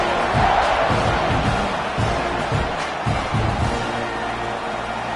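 A stadium crowd at a football game buzzes after a touchdown, a steady loud roar of many voices with scattered shouts and whoops rising through the wash.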